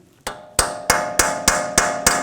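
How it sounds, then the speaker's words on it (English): Seven sharp metallic blows of a hammer striking a chisel on a rusted, frozen front lower ball joint of a 2003-10 BMW X3 ring out at a steady, even pace, each loud and close with a brief ringing decay. "you can take a chisel and a hammer"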